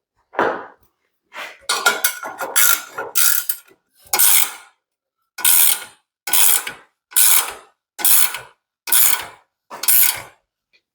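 Steel gate rollers run back and forth along a metal track in a series of about ten separate rolling, scraping passes, each a second or so long with short pauses between them, close and fairly loud with no talking.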